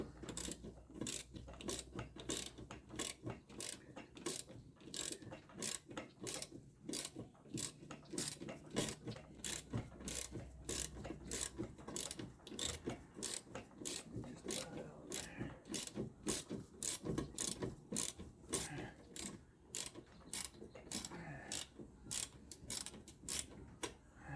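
A ratchet on a universal joint works the rear brakes of a 2006 Ford Escape XLT, with steady, quiet repeated clicking strokes in a rhythmic series over a faint garage background.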